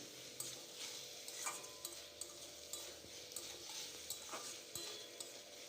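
Eggplant and potato frying with tomato-ginger paste and spices in a pan, a steady low sizzle under repeated scraping and stirring strokes of a spatula, with occasional light utensil ticks.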